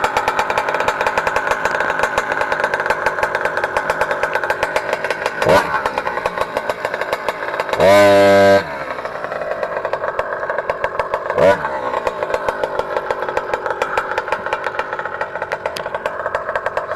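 A PNW63 Stage 3 scooter engine starting without choke and then running, a sharp revving burst amid a close, buzzy idle with a couple of throttle blips, no one talking over it.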